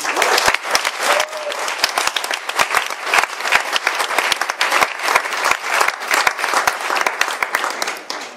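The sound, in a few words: wedding guests applauding the bridesmaids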